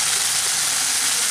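Spice mix of turmeric and cumin powder frying in a pan for an egg omelette curry, a steady bright sizzle close up and constant throughout, with no voices.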